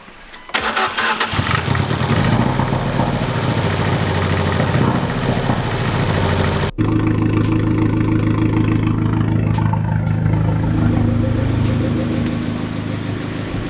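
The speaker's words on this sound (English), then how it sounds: "It's gonna sound a little weird the first few times you start it" A Fiat 500 engine with upgraded valve springs cranks and catches into a loud, close, continuous run, then settles into a steady idle.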